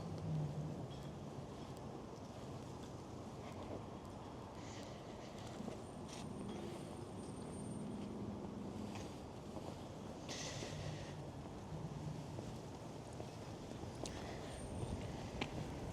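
Wind blows hard outdoors on a cold day near a city square and event park, a steady low rumbling roar buffeting the microphone for the whole stretch with no voices.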